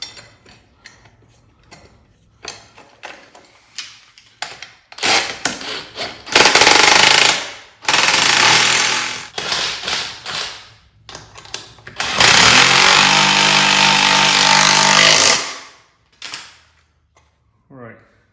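Ratchet or power tool tightening 9/16 bolts and nuts on a fuse box relocation plate for a vehicle, heard as loud bursts of buzzing mechanical whirring and clicking, with a long sustained run near the end.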